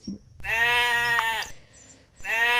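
A goat bleats twice in a children's ondel-ondel setting, with a long, loud wavering cry followed by a pause and then a second cry. The sound is close and clear, with no talking.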